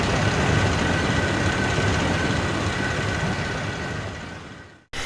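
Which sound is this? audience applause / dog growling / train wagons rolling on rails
train wagons rolling on rails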